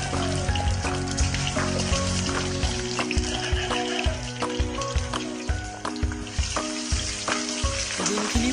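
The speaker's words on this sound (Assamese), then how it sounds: "এয়া ডিমখিনি আমি দিছোঁ আৰু এনেদৰে ফ্ৰাই কৰি দিওঁ" Eggs frying in hot oil for an egg curry make a steady, loud sizzle peppered with close popping crackles and spatters throughout, with no talking.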